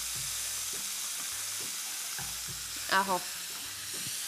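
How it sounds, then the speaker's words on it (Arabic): Onion sautés in a frying pan with a soft, steady sizzle, close and even, while a voice speaks briefly over it. "هنشوح هنا شوية بصل وهنا شوية بصل"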